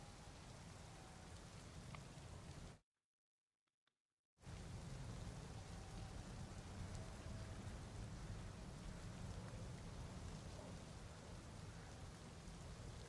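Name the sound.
rain in a video game (tested with GPTK 4)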